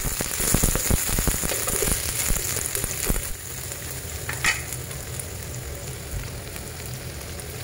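Garlic, onion and chili crackle and sizzle steadily in hot cooking oil, with a few stirring scrapes early on, for a vegetarian pumpkin and potato dish; the frying stays close and continuous with no talking.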